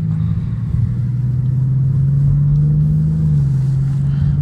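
An Aston Martin Vanquish driving through Monaco, heard from inside as a steady low engine drone with a slowly rising tone, loud and continuous with no voices.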